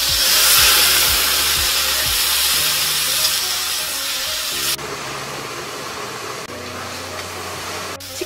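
Porcini mushrooms and minced garlic with a splash of white wine hiss and sizzle loudly in a hot pan, a steady broad steam-like rush that shifts in intensity partway through, with faint clinks.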